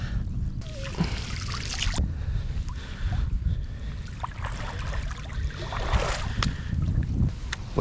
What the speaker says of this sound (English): Waiting for this wind to chill out,